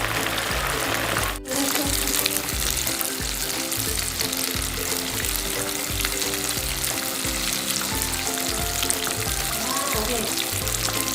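Batter-coated tilapia deep-fries in boiling oil with a loud, continuous close-up sizzle and bubbling, steady for the whole stretch, with occasional soft scraping of a utensil.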